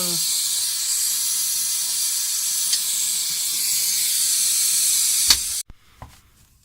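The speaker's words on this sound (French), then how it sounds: "donc là j'envoie de l'azote ici" Nitrogen gas hissing steadily into a pipe of a Capterre heat pump during a compressor replacement, a loud continuous hiss that cuts off abruptly near the end, followed by a couple of faint knocks.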